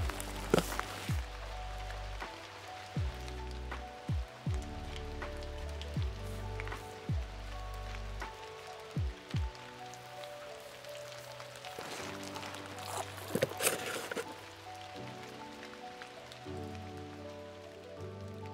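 Rain falls softly outdoors during a carp fishing session in Béarn as rods are being set, with a faint patter broken by scattered knocks and handling sounds.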